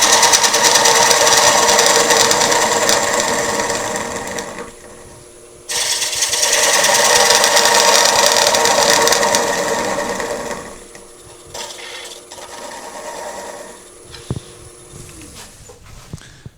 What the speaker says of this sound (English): so I can do a conventional cut with the bowl gouge, straight to the middle